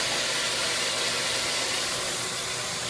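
A steady, loud mechanical whir with broadband hiss runs continuously, a reverse osmosis bypass pump humming at constant speed close by, generating 60 psi.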